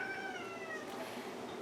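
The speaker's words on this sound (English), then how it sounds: "there's my cat meowing in the background because he can smell that I'm making a homemade food" A domestic cat meows insistently near a kitchen where homemade chicken cat food is being prepared: one drawn-out, wavering meow at moderate volume, alone with no talk.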